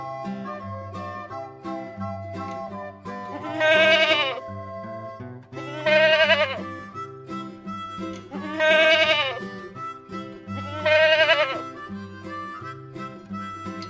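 A goat kid bleats four times, each a wavering, quavering cry at a fairly even interval, loud and close over a steady backing of music tones. No speech is heard.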